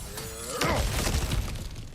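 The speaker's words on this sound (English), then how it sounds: "back to smashing these things for fun and profit" A breakable object smashed in God of War Ragnarök gives one loud shattering crash with a bright ringing scatter of debris, trailing off into rattling fragments over about a second.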